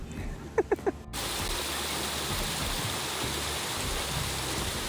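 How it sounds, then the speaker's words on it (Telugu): Water spills from small waterfalls at a lake in a park, a dense, continuous rushing wash that begins abruptly after a brief moment of a few soft calls and then holds steady. "ఇక్కడ వాటర్ సౌండ్ వినండి ఎంత పీస్ఫుల్గా అనిపిస్తుందో"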